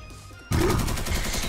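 Video game gunfire erupts suddenly as a loud, dense burst of rapid shots and impacts, continuing steadily after a brief quieter lead-in of game ambience.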